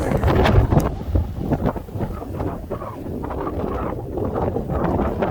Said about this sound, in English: We got a bit of a wind going on right now.